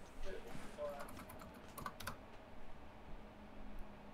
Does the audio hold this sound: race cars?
no